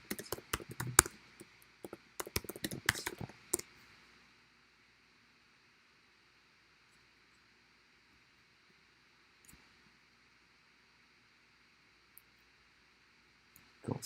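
Quick keystrokes on a computer keyboard while a command is typed into a terminal for a React project, a close, soft burst of clicks over the first few seconds, then near silence and a last few taps at the end.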